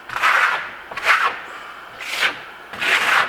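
Four rough scraping strokes of a trowel rasp across marmorino plaster on a wall, each about half a second long, close and fairly loud, with short pauses between them.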